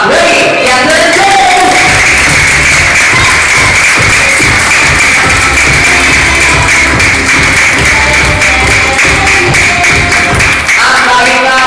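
Party guests applaud at a one-year-old's first birthday party at Jollibee, a loud, dense crowd clatter of clapping and tapping that runs steadily for the whole stretch with voices mixed in.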